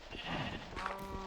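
A sheep bleats once in Minecraft, a wavering nasal cry with a soft ambient hum behind it.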